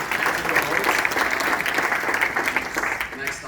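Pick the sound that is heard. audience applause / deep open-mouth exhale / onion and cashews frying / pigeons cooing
audience applause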